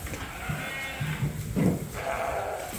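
Large Suffolk lambs bleating in a barn, a few short near bleats over steady background noise and shuffling, no talking.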